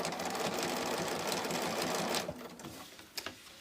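A sewing machine running a straight stitch while lettering, its steady, close whir holding for about two seconds before slowing into a few short, uneven bursts.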